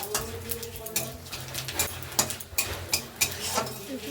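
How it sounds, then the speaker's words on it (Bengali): Panch phoron spices frying in oil with red chillies in a pan for a fish and potato curry, soft sizzling under repeated sharp stirring clicks and scrapes of a spoon against the pan. "পাঁচফোড়নটা একটু লাল করে ভেজে নেব।"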